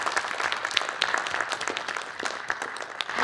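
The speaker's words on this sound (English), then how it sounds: "join me in a very warm round of applause for our rapporteur" Audience applause for a rapporteur at a conference session on breakaway groups, a dense, steady wash of many hands clapping throughout, moderately distant and fairly quiet, with no talk over it.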